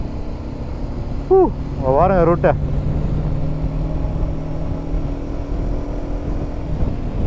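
Constant low engine drone of heavy Sunday road traffic in Vagamon, heard from inside a moving vehicle, with a person briefly speaking near the start.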